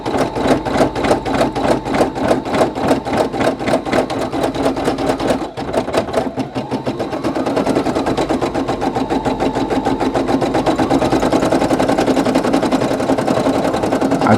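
A Brother PE800 embroidery machine stitches a patch with a rapid, even mechanical rhythm of needle strokes, close and steady, with a brief pause partway through before stitching resumes.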